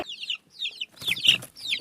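High, thin peeping of a young chick comes in several quick bursts of falling chirps, close by and fairly loud, with short pauses between.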